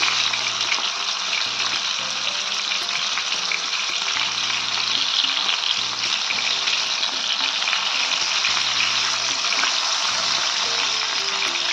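Fish pieces for Kerala fish molly fry in hot oil with a steady, loud crackling sizzle that fills the whole stretch, with faint background tones beneath.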